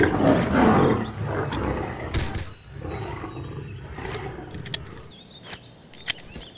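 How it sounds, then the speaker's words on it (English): Lions roaring and snarling in a violent dominance fight over a carcass, loud, close and continuous growls with sharp bursts, a game-like wild setting. "Another lion jumps out of a nearby bush to protect its meal. A deadly dominance fight takes place."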